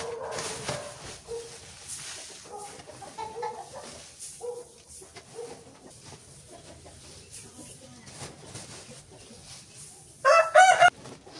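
Chickens in a coop bedded with rice hull give soft, scattered clucks in the background, and a louder call comes near the end.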